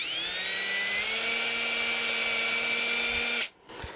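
Power drill whining steadily at high speed as it starts screw holes during a Telecaster guitar build, close and loud for over three seconds before cutting off abruptly.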